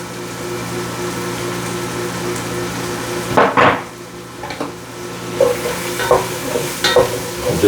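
All-purpose flour is stirred into sizzling mirepoix in a pot over a medium-high flame for chicken and dumplings: a steady frying hiss, then a few scraping, knocking strokes of the spoon against the pot, with no talking.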